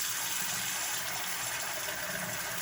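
Steady running water pours without a break into a pottery dish, a continuous broadband rush like a tap filling a container, with no talking.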